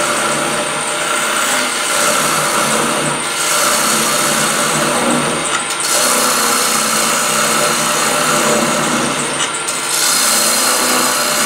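Wood lathe taking a face cut on a scrap bowl blank, with a loud continuous scraping whir and brief dips as the tool lifts off the spinning wood.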